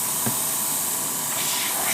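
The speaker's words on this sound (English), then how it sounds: "I feel air coming out as I push down on the rocker." An airbrush with its rocker trigger pressed down lets out a steady, close hiss of air for the whole stretch, with no voices over it.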